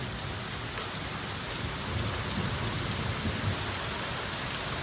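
A hailstorm with rain and thunder over a village spinach garden: a dense, constant downpour roars close by, and low rumbling swells stronger in the second half.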